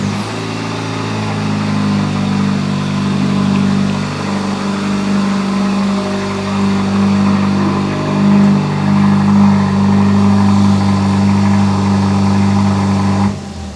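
A 2023 Kia Forte GT's engine idles and revs up and down for about fourteen seconds, a close, loud, steady low rumble with rising and falling swells and no talking.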